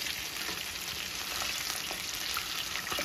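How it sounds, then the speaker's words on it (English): Fish for Jamaican brown stew frying in hot oil in a pan, a dense, continuous crackling sizzle that holds steady and close throughout, with no voices. "As you can see, they fry properly on one side, and I'm just going to allow the other side to fry properly as well."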